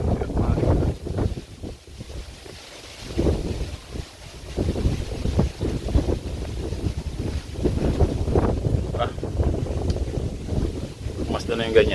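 Strong gusty wind blows outdoors and buffets the microphone in loud rumbling surges that rise and fall throughout, with muffled voices partly audible beneath.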